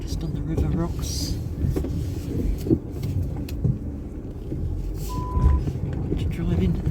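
A car backs slowly down onto river rocks in a rainforest, its low engine rumble steady and close, with a brief electronic beep partway through and a few knocks from the rough ground.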